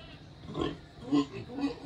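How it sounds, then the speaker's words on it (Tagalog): Pet pigs and piglets on a farm give a few short grunting oinks, close and moderately loud, over quiet background noise. "Ang ating mga alagang baboy, ang mga biik."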